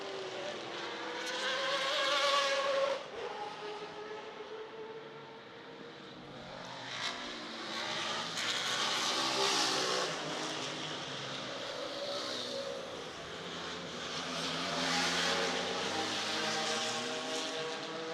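Historic IMSA GTO race cars roar loudly around a hairpin and onto the front straight at Shoreline, several engines overlapping in a continuous rising and falling drone.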